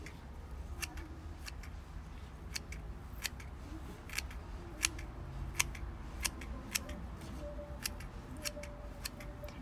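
Scissors snip repeatedly while trimming material for a succulent pumpkin craft, a rapid irregular series of sharp, close cuts over a low background hum with no speech.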